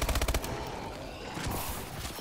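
Gunshots in the video game Call of Duty: Advanced Warfare Exo Zombies: a quick burst of about six rapid shots at the start, then a noisy, busy game background with no clear talk.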